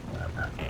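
Frog croaking in the video game Jak and Daxter: The Precursor Legacy, reskinned jungle-area frogs giving a short, close, throaty croak against a low background murmur.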